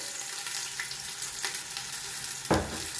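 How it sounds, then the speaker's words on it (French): A pork roast searing in a cooking pot, a fairly quiet continuous sizzle with a few crackles and one louder spatter near the end, no talking. "On va laisser rôtir, enfin dorer notre rôti des 2 côtés"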